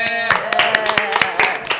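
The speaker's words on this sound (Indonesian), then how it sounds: "Tepuk tangan dulu dong teman-teman Mbak Vincent." An audience at a talk show claps in a short, loud burst of sharp, uneven hand claps, with a voice speaking over the start.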